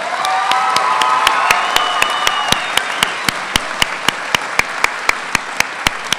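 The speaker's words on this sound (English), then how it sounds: "Another round of applause, please," Graduation ceremony audience applauds and cheers loudly, with whoops and shouts over dense clapping at first, then the crowd noise thins while sharp, evenly spaced claps continue in a steady rhythm.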